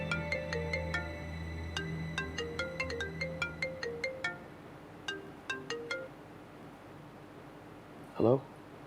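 A mobile phone ringtone plays an unanswered call as a repeating melodic pattern of bright electronic tones, pausing briefly before resuming, then ending as a voice speaks near the close.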